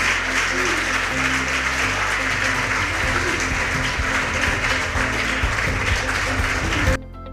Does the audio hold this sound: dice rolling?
no